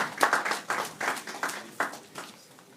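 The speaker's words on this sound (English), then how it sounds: "Please clap for yourselves." An audience at a stroke awareness event claps in a short, uneven burst of applause, close and fairly loud, tapering off after a few seconds.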